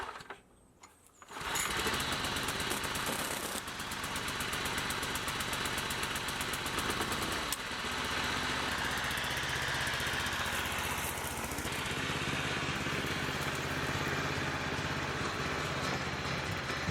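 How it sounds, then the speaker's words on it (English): A petrol rotary lawn mower engine catches after a brief quiet moment and then runs loud and steady at a constant throbbing pace, alone with no talking. "I use this rotary mower as it will rip through anything underneath it"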